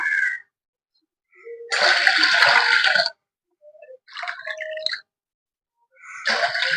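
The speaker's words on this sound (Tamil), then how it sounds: "இப்போ 2 டம்ளர் தண்ணி ஊற்றலாம்." Water poured into a pot while making milk tea, in separate bursts of splashing and gurgling pouring separated by silences, with a short clinking, trickling passage in between.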